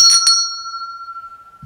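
A bell is struck twice in quick succession, then a clear metallic tone rings out and slowly fades, loud and close with nothing else behind it.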